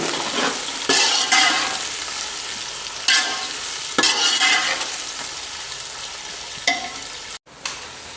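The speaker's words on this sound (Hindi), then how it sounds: "आयल गर्म हो गया जी। प्याज जा रहे हैं इसके अंदर। प्याज कर लेने फ्राई।" Onions dropped into hot oil for an aloo baingan dish, frying with a steady loud sizzle broken by several bursts of stirring and spatula scrapes, no voices.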